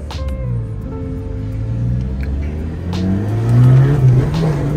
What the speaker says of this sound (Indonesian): baru benar-benar kepasang, tiba-tiba udah digeber-geber sama dia